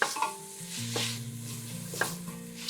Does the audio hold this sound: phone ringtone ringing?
no